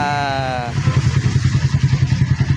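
A motorcycle with an Akrapovič aftermarket exhaust and silencer fitted idles with a loud, pulsing low rumble, steady rhythmic thumps close by after a brief higher tonal whine at the start.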